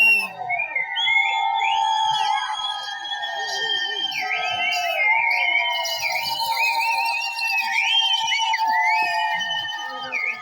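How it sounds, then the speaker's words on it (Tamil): Shrill whistles from the crowd at a village stage drama near Melur, Madurai, rising and bending over continuous music and voices, with repeated warbling swoops throughout. "தம்பி விசில் அடிங்கயா."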